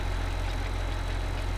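A tractor engine in Farming Simulator 15 drives steadily with four-wheel drive engaged, giving a constant low, rumbling drone at an even, fairly loud level with no voices.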